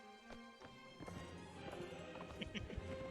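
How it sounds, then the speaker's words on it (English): Hooves clip-clop in a quick run from a horse in a Lord of the Rings video game, with a brief whinny and dense game sound effects layered over it, close and fairly loud. "It's a naughty horse."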